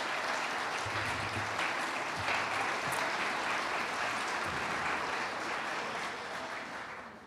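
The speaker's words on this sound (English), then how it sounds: "Let's give another round of applause for these Owen County kids." A luncheon crowd at a Boys and Girls Club donor event applauds the Owen County kids, a sustained round of many hands clapping that holds steady for about seven seconds and then begins to fade at the end.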